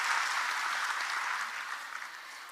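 Audience applause welcoming an all-India rank 60 candidate from Indore at a UPSC event, a dense wash of clapping that holds steady then thins slightly toward the end, moderately loud and without speech.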